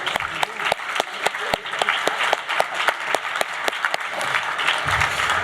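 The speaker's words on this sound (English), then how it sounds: "give Leader Clyburn another round of applause" A crowd applauds steadily, with some sharp claps falling into a regular rhythm throughout, sustained and fairly loud.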